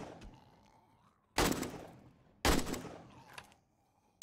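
Gunfire in the video game 7 Days To Die, two sharp shots about a second apart with decaying tails, fairly quiet overall, no talking.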